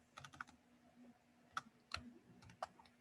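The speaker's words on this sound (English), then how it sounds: "I'm going to type those coordinates in" Coordinates are typed on a computer keyboard into graphing software, producing quiet, scattered key clicks in short bursts with pauses between them, close up against a faint hum.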